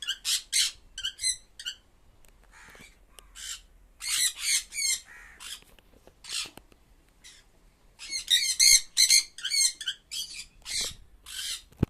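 Sun conure chicks in an open aviary give loud, harsh squawks in rapid bursts and clusters, close by, with brief quiet gaps between volleys and no talking.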